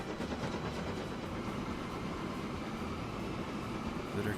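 Trains in the Transport Fever video game rolling along carrying oil and fuel, a steady, even rumble of wheels on track with a faint rhythmic clatter, continuous and moderately distant.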